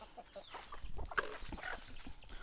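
Free-range chickens on a farm, soft clucking that is faint and somewhat distant, mixed with low background noise and no clear talk.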